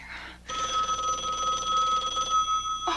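An old telephone bell rings in a room, one long sustained metallic ring starting after a brief pause and running loud and close to the end.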